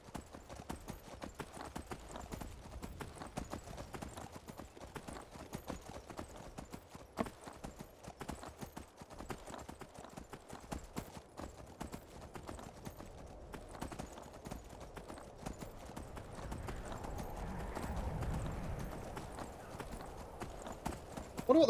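Horse hooves clip-clop in a steady, continuous rhythm throughout as a rider travels on horseback down a mountain in the video game Requiem, with no talking.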